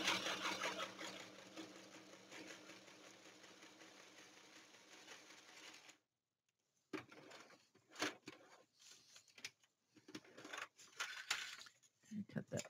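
A sewing machine runs in a steady whirring burst as it stitches along a folded paper page of a junk journal made from a Little Golden Book, followed by short clicks and handling noises with some talk.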